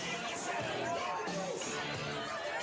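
A crowd murmurs steadily at an ECW wrestling event, a dense babble of many voices at even, moderate loudness with no standout shouts.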